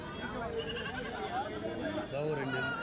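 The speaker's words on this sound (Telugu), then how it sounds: "30 పిల్లలు 30 మేకలు ఉన్నాయి." Goats and young kids bleat at the weekly Tuesday animal market in Kadiri. The quiet, wavering bleats mix under nearby conversation and background crowd chatter.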